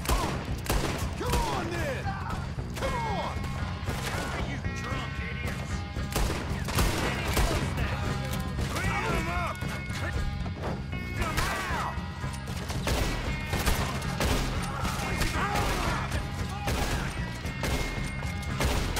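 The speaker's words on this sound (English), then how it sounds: "Alright everyone, open fire." Sustained gunfire in a Red Dead Redemption 2 shootout, with dense, rapid overlapping shots and crashes, loud and continuous throughout, under game music and effects.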